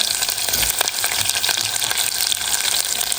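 Mustard seeds crackling with curry leaves in hot oil while tempering sambar with potato, carrot and onion; a dense, steady sizzle with scattered pops and faint stirring, no voices.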